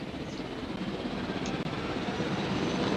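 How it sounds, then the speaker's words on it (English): A helicopter in Jurassic World Evolution drones with a steady, dense rotor and engine rumble, continuous and fairly loud throughout. "Let's pilot the helicopter and drive around"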